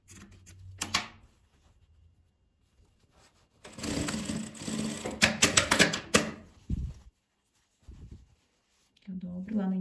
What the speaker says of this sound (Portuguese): Dobro uma beiradinha e costuro.